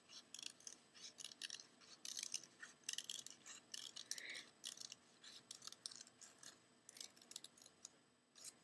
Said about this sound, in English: just cut along that pencil line that you've created